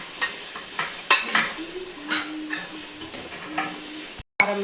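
Chicken curry cooks in a pan as chili powder goes in, with a soft steady sizzle under repeated scraping stirs of a spoon, close and fairly quiet, broken by a brief cut near the end.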